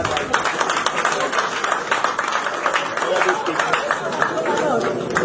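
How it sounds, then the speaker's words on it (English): An audience claps for the Igbo Union at a community gathering, a dense steady patter of hands mixed with loud crowd chatter and voices throughout. "Can we clap for Igbo Union"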